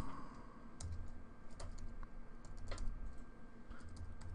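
Quick, irregular typing on a computer keyboard while a username and password for a SQL Server connection are entered, with clustered key clicks and occasional louder strokes over a low steady room hum.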